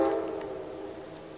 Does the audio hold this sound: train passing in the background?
yes